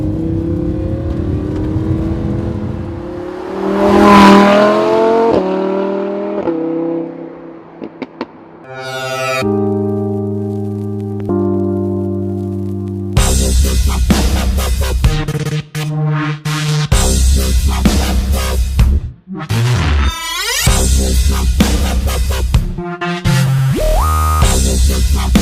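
A 2016 Lamborghini Huracan LP 610-4 driven hard into corners, its engine loudly revving and climbing through gears, with sharp shifts, brief lifts and repeated surges of acceleration close by.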